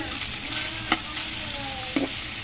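Meat being sautéed in oil in a pan, a steady close sizzle with soft stirring scrapes and a couple of brief clinks.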